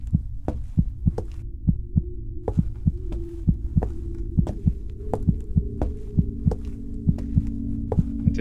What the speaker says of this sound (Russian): 125 пульс подпрыгнул.